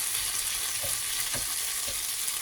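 Onions soften in a pan for a fish and bitter-melon-leaf sauté, giving a continuous close sizzle with a few soft stirring taps.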